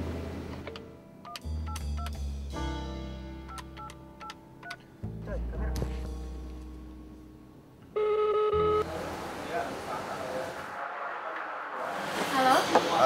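Electronic touch-tone beeps dial a number in quick bursts, followed by a phone ringing tone and line noise, with tonal music underneath.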